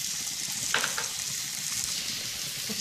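Milk sauce boiling in a pan for a Mexican-style chicken steak dish, a steady close bubbling and hissing simmer with a few brief stirring scrapes, loud and continuous.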